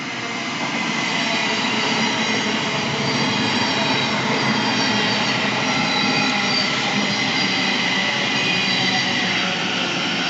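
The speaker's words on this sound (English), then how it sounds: "observe this train that's coming in for London King's Cross" A Class 700 train pulls into Hatfield station on the East Coast Main Line bound for London King's Cross, a loud, steady rumble of wheels and motors with faint squeal, close by and with no talk.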